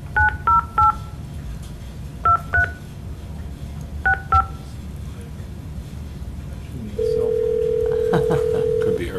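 Telephone keypad tones beep in three quick clusters while calling back a caller who dropped off a line, followed by a steady dial or ringback tone near the end, all over a faint background hum.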